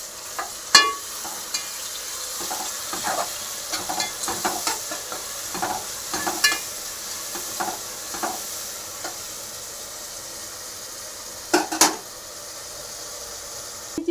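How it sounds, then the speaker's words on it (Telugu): Sliced onions and green chili paste fry in a pan for vegetable biryani, a soft steady sizzle broken by frequent scraping stirs and clinks, fairly quiet and with no talking. "ఆనియన్స్ కొంచెం ఫ్రై కాగానే నేను పచ్చిమిరపకాయల పేస్ట్ వేసినాను"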